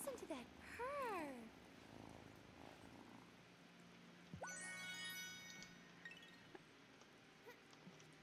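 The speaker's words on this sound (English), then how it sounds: "Listen to that purr." A cat in Wylde Flowers purrs softly and low, running quietly through the clip beneath scattered chirpy electronic tones and brief sliding sounds.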